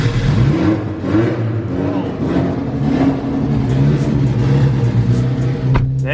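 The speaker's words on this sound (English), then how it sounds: "this E85 cold start is gonna be pretty brutal" Tuned 510 whp Mitsubishi Evo 8 running E85 settling into a loud, rough, lumpy idle just after a cold start, steady low engine drone close by with slight revs rising and falling.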